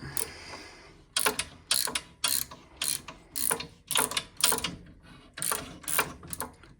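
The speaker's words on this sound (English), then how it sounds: "undo that nut there, and all this should swing round" Nut on a boiler being undone with a ratchet: a quick, close series of sharp clicking bursts in an irregular rhythm, with short pauses between strokes.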